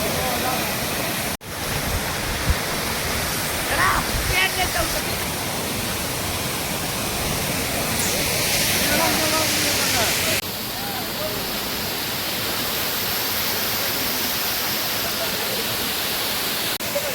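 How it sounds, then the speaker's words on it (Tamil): Steady, loud broadband roar of a private waterfall near Thekkady, continuous and close throughout with only brief dips, the rushing water masking most other sound. "பிரைவேட் ஃபால்ஸ்னாங்க, சவுண்ட் நல்லா தான் இருக்கு."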